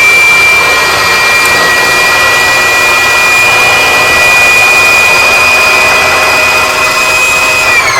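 A Singer Heavy Duty sewing machine runs at full speed while winding a bobbin, giving a loud, steady high-pitched motor whine that holds even for about eight seconds and eases slightly in pitch at the very end.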